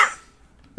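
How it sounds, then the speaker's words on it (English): A single short cough from someone with allergies to cats and dogs lands near the end, a brief close burst after quiet. "So my eyes are burning, and I keep coughing."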